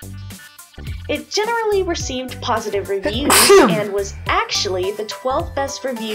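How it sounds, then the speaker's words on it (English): A single loud, sharp sneeze bursts out in the middle of a podcast conversation about a video game, with people talking steadily before and after it. "Don't cut out my sneeze, leave it in."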